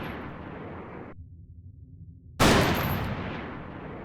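Hristov rifle gunshots in the video game Goobstation: a loud boom already ringing out at the start, then a second sharp, powerful blast with a long fading tail, with no talking.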